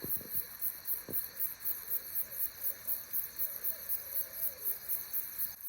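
Faint owl hooting carries from a distance outside on a summer night, a few wavering calls nearly buried under steady, pulsing cricket chirps, with a couple of brief close knocks at the start.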